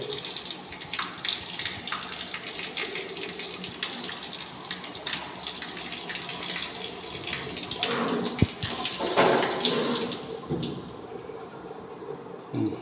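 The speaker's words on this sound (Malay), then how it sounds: "Nampak tu, air dah keluar." Water gushing and trickling out of a blocked air-conditioner drain on a Perodua Alza car, a steady splashing flow with a few clunks, continuing until it cuts off near the end.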